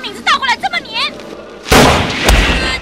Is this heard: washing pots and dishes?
no